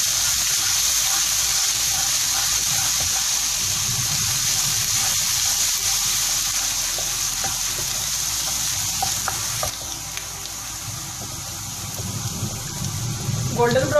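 Ginger paste frying in hot oil for keema naan, a steady close sizzle with stirring scrapes running throughout, easing slightly near the end.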